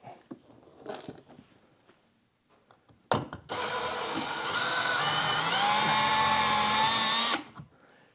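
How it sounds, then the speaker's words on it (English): Some quiet handling noises, then a loud power drill whirs steadily for about four seconds, its pitch shifting as it bites into rivets on an Alumacraft boat's gas tank mount, before stopping. "You go right down the center, just drill those out."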